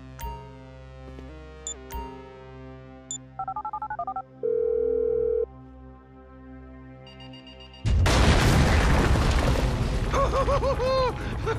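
Phone dialing in the video game GTA V: a few short beeps, then a quick run of keypad tones and a long steady tone, before a loud burst of crashing game action takes over.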